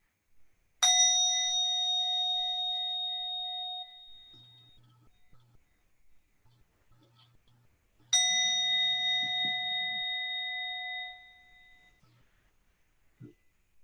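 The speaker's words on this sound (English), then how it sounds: "So pay attention to the sound of the bell." A meditation bell is struck twice, each time a clear, bright ring with a long, slowly fading resonance, separated by a quiet pause with faint low background hum.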